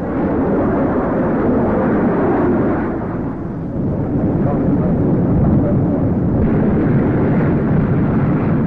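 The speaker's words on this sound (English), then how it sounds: "Flown by test pilot Geoffrey Tyson, the aircraft, the first of its kind in the world, apparently gave an excellent performance." A pioneering jet-powered aircraft on a test flight gives a loud, continuous deep roar that dips briefly midway before swelling back, heard alone without speech in an old, slightly muffled recording.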